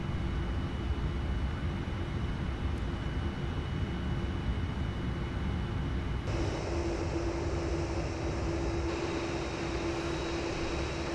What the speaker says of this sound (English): let's go all the way to the end and do our takeoff roll